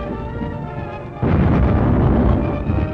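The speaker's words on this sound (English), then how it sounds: "They blew up a stick of dynamite a few feet from a car with a passenger in it." A real stick of dynamite detonates a few feet from a car with a passenger inside, in a film scene: a sudden heavy boom that swells into a loud, sustained rumbling roar.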